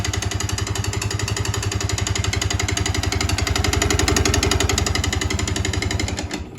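A Yamaha R15 motorcycle engine, run low on oil, idles loudly with a dry, rapid mechanical clatter and buzz, steady and close, before dropping off at the very end with no talking.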